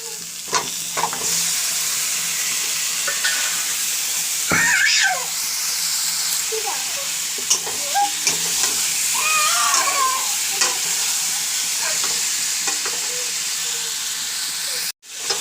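Spice paste of ginger, garlic and onion sizzling and frying in a pan with turmeric and chilli, a spoon scraping and stirring through it, a steady close hiss with intermittent clinks and scrapes.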